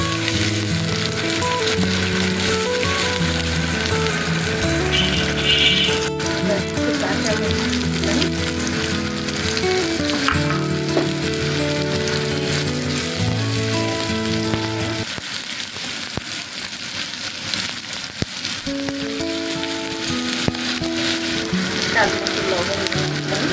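A large onion hits a little hot oil and sizzles steadily and loudly the whole way through, a broad crackling hiss layered under background music.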